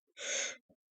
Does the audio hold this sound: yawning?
yes